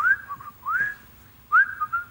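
A voice imitates casual, nonchalant whistling: three short, sliding whistled phrases with brief pauses between them, close and clear.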